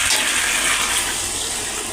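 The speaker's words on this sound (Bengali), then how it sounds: "গরম জল পড়ে গেল।" Hot water pouring into a pan of fish curry with elephant foot yam, a steady close gushing and splashing rush that holds for two seconds and eases slightly at the end.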